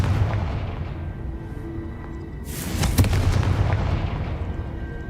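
Confringo spell blasts in the Hogwarts Legacy video game, a deep rumbling bed with a loud booming burst partway through that lingers and rolls on.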